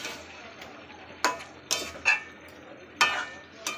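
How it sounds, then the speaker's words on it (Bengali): Chicken browning in a pan for biryani, with a soft steady sizzle and a few sharp scraping stirs and utensil knocks spaced through the stretch. "এখন এখানে কষা হচ্ছে।"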